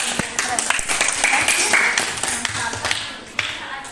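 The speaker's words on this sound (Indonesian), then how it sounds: "Yuk kita tepuk tangan bareng-bareng dulu" A group claps hands together in a busy, crowded room, sharp overlapping claps mixed with voices chattering throughout.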